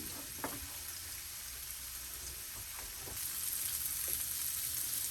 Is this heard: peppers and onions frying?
yes